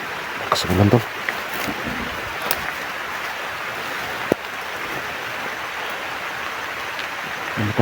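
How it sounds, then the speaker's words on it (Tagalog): Heavy rain hisses continuously in a dense, steady wash, with a few knocks and taps and brief voices near the start. "Lakas ulan"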